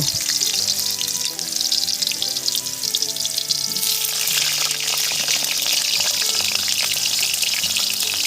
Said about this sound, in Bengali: বিরিয়ানিতে আলু দেবো, তাই আলুটা ভেজে নেব।